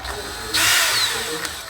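A power drill briefly whirs as it drives small screws into a door lockset, with a short, loud burst of spinning motor noise that starts abruptly and tapers off.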